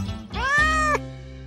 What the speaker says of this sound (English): Oh, it turns out there was a cat after all.